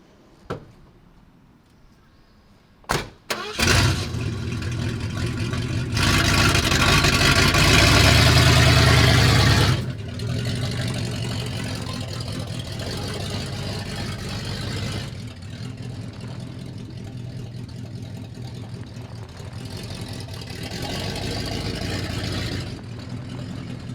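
A vehicle that has been sitting for a wheel and tire install cranks up after a few sharp clicks, then runs at a loud, steady drone for several seconds before easing back to a softer, continuous idle.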